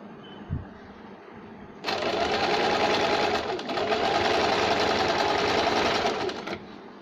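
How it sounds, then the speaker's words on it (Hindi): After a faint tap, an electric sewing machine starts and runs a steady fast stitching seam on a double-shade saree blouse with lining for about five seconds, loud and close, then stops. "राइट साइड और राइट साइड दोनों को इस तरह से रखिए, यहाँ पे सिलाई लगाएंगे।"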